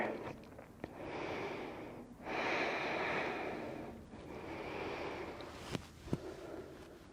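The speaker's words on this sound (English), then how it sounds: "Just a few rounds of breath here." Slow, deep breaths during a restorative core yoga session, three long airy inhale-exhale cycles close to the mic, soft and steady with a couple of faint clicks near the end.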